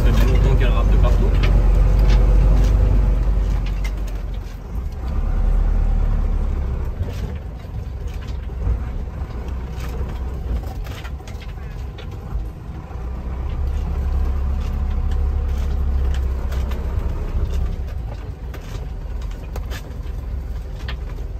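An old, worn-out car labours along, its engine a heavy low rumble that swells and sags as it strains, with people talking over the drone.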